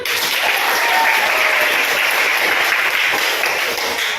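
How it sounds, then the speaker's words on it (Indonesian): Students in a classroom burst into sustained, dense applause, loud and close, with clapping filling the whole stretch and no talk over it. "Tepuk tangan."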